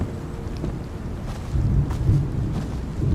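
Thunder rolls in over steady rain in the video game Silent Hill 2's weather effects, the deep rumble swelling louder midway through while the rain hisses on continuously, with no voices.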